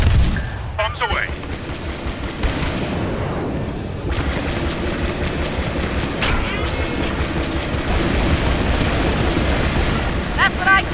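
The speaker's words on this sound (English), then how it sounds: "Bombs away." Explosions from bombs dropped during a space battle at the Fondor Shipyards in Star Wars Battlefront II, heard from a rebel cockpit: dense continuous rumbling blasts and booms over engine roar, with some voice chatter mixed in.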